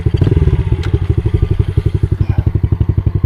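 A pit bike engine revs hard for a wheelie on a grassy, bumpy flat track, its loud, rapid single-cylinder pulses chugging steadily up close with a rattly clatter.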